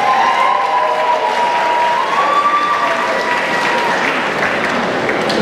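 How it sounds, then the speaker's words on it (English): Crowd applause at a live rock concert tribute show, a loud, continuous roar of clapping with some cheering mixed in and a faint sustained tone running beneath it. "so give yourselves a round of applause"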